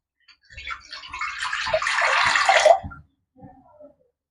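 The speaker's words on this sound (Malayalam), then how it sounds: "ആ ഗ്ലാസ്സിന് തന്നെ 4 ഗ്ലാസ് വെള്ളം ഞാൻ ഇതിന് ഒഴിച്ചു കൊടുക്കുവാണേ" Four glasses of water are poured onto rice for Ambalapuzha milk payasam, giving a single close splashing pour of about two and a half seconds, followed by a brief softer trickle.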